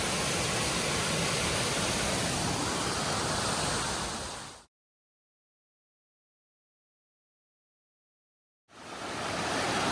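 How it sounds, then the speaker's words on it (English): A waterfall on Long Pond Stream roars as dense, steady rushing water, close and loud, broken by a few seconds of total silence midway before the same full roar returns. "There's a bigger waterfall coming down there."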